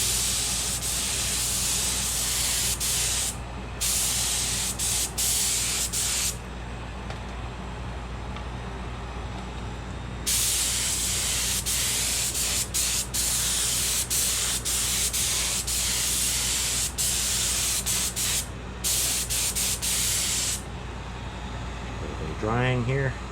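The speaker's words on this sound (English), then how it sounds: "Do a little quick test spray." A spray can hisses onto an AMT 1:1400 USS Enterprise E model kit in long loud bursts with short pauses between them. A brief tonal squeak comes right at the end.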